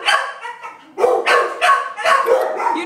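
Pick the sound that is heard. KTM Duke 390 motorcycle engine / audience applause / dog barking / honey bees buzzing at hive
dog barking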